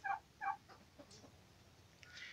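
Free-range chickens on a small farm: two quick clucking calls near the start, then faint scratching and rustling over a low background hiss, quiet and close, with no talking.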